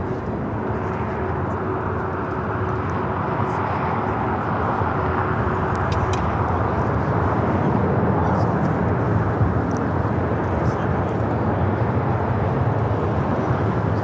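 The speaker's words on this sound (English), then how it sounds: "First departure of the stream here today will be a flight heading to Raleigh-Durham. American Airlines Flight 2308, a 737 MAX 8." American Airlines Boeing 737 MAX 8 departing LAX bound for Raleigh-Durham, a steady broadband jet roar that holds loud and constant throughout, with faint talk in the background.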